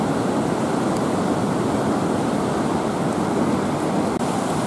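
Fast, muddy river water rushing after storms, a steady broadband roar that stays loud and unbroken throughout, with no voices.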